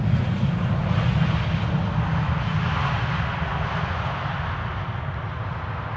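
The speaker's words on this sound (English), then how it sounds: "Air France having arrived from Paris-Charles de Gaulle." Low, rumbling jet roar of an Air France A220 airliner arriving from Paris-Charles de Gaulle, a broad continuous engine noise that slowly fades as it passes.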